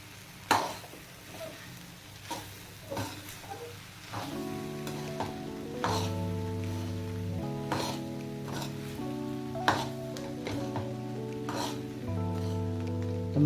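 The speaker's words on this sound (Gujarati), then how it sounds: "અને હવે એને સારી રીતે મિક્સ કરી લઈશું." A spoon stirs pulao rice with sweetcorn and boiled peas in a pan. Repeated scraping strokes sound over a soft sizzle, and a steady hum joins partway through.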